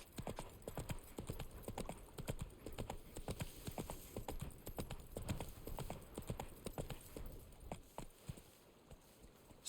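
Rhythmic clip-clop of a horse's hooves at a steady ridden gait in The Witcher 3, loud and close throughout with short breaks near the end.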